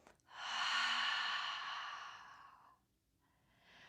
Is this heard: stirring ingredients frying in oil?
no